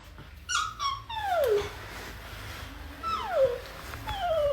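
A child imitates a cat, producing several gliding meow-like cries one after another, close and fairly loud in a quiet room.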